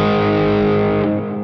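Gretsch Falcon electric guitar played through heavy distortion with the volume control raised, a loud sustained chord ringing out alone and thinning slightly toward the end.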